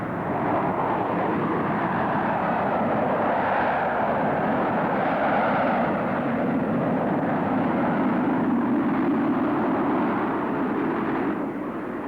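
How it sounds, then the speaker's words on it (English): A Harrier jet flying at an air show gives a loud, sustained roar that stays steady and unbroken throughout, with no talk over it. "the Harrier can move out at Mach 1 and climb at a rate of nearly 10 miles a minute in conventional"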